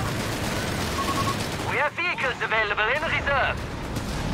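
Anti-tank rifle fire in Company of Heroes 3 cracks in a quick burst of shots amid battle noise, with a voice talking over the gunfire.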